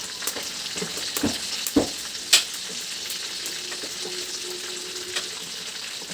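Food for adobo fries in a pan with a steady, dense sizzle and crackle, punctuated by a few sharp pops and spatters, alone with no voices.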